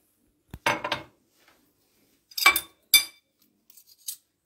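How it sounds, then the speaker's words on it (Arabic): Half a cup of butter goes into a bowl with a few brief clinks and scrapes of utensil against dish, separated by quiet gaps. "اول حاجه هنحط الزبده، نص كوبايه زبده بالظبط."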